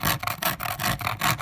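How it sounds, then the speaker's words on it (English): A hand rasp files the hollowed agave stalk of a didgeridoo in quick, rhythmic back-and-forth strokes, a close, coarse scraping with short pauses between passes. "So what I'm doing here is I'm rasping them first"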